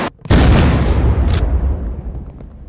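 A loud explosion in the survival game Unturned during a base raid, a sudden heavy boom after a short gap that rumbles and slowly decays over a couple of seconds.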